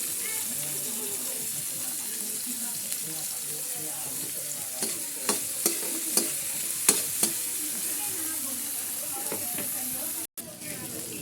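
Sliced carrots, potatoes, tomato and green chili sizzle softly in a pan, with a low frying hiss under a few distinct scraping and clinking strokes of the stirring utensil, close and moderately quiet.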